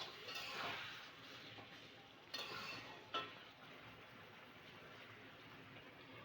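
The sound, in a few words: stirring chicken and spinach in a pan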